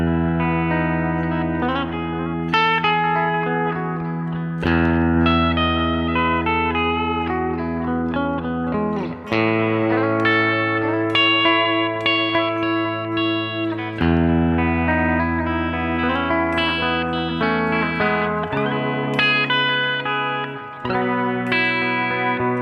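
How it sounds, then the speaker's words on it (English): Clean electric guitar through an analog delay effect on a Line 6 Pod Express plays chords and single notes, each one trailed by warm, repeating delay echoes that smear and blend into the next. "So here's analog delay."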